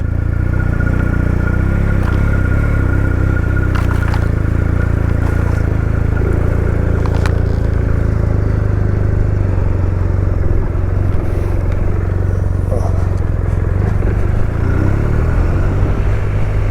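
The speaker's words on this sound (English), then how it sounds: "that lovely deep throaty roar from a boxer engine" A BMW R1250 RT touring motorcycle with a boxer engine, 2022 model, runs with a steady deep rumble and whir, continuous and loud, with faint clatter on top and no talking.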